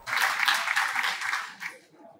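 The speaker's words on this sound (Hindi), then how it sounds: "कृपया जोरदार तालियों से महोदय का स्वागत करें।" Audience applause at a university convocation ceremony in Bihar, a dense burst of clapping that swells briefly and fades out within about two seconds.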